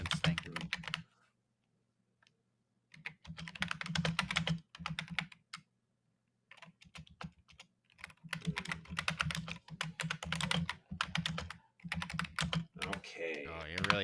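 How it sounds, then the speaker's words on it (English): Keyboard typing in bursts of rapid key clatter with short pauses, heard close under a low steady hum during a podcast-style recording; no one talks over it. "I'm typing."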